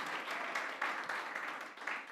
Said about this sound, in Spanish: ¿Qué tal si le damos un aplauso al Señor en esta mañana?